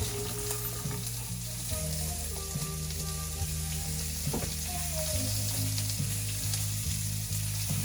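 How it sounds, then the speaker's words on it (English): Chicken sizzles steadily in a hot pan while cooking alongside a mixed green salad preparation, a continuous bright frying hiss over a low kitchen hum, with occasional soft clicks and knocks. "The chicken's cooking."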